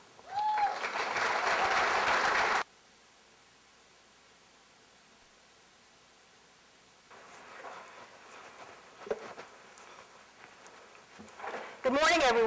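Audience applause welcoming a speaker to the stage, a broad burst of clapping that stops abruptly, followed by quiet and then faint room noise with brief sounds.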